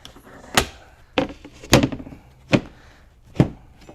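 A sleeper platform sliding into a rear cargo drawer of a Toyota 4Runner, five separate wooden thuds and knocks spaced unevenly, close and moderately loud.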